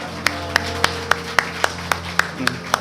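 Hands clap in church during a first-anniversary thanksgiving service, about ten crisp, evenly spaced claps in a steady beat over a sustained held tone in the background.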